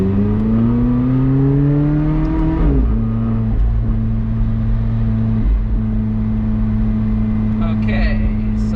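A track car's engine revs up in rising pitch, then drops back to a steady drone while people talk over it inside the cabin.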